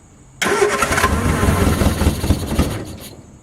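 1967 Triumph Spitfire engine with the fuel flow shut off, cranking over once the starter engages and catching into a loud, rough, rapid mechanical churn that stays close and steady before cutting off near the end.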